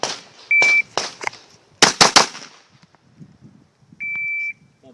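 Rapid shots from a Glock pistol, with a shot timer's steady electronic beep before the string: sharp cracks come in quick clusters, then the beep sounds again near the end.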